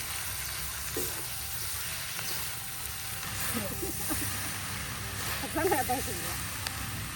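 Soft, constant sizzling of ingredients frying in a pan for Korean-style noodles, with occasional light stirring clicks and a voice speaking over it.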